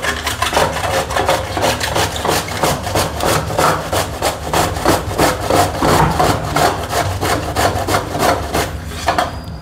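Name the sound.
grating cabbage for kobi vadi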